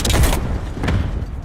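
A frag grenade blast in a tactical shooter game, a loud low boom bursting at the start and rumbling out, followed by a second fainter thump about a second later.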